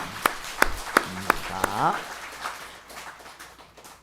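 A seated audience at a Buddhist monk's question-and-answer talk claps in unison, about five sharp, evenly spaced claps in a steady rhythm, followed by a voice speaking briefly.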